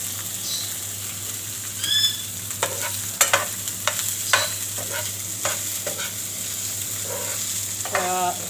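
Boiled raisins and carrots sizzle in olive oil in a pan while a utensil stirs them, giving a steady frying hiss broken by several sharp scraping clinks.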